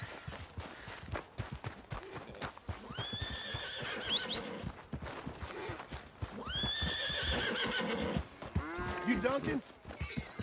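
Horses in the video game Red Dead Redemption 2, two loud whinnies in the middle of the clip, a shorter snort near the end, and scattered clip-clop of hooves beneath them.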